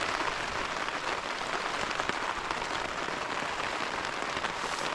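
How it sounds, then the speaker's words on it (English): Heavy rain pours onto a tent at a night wild camp, a dense, constant patter filling the space loud and close throughout, with no voices. "so obviously you can hear the heavy rain"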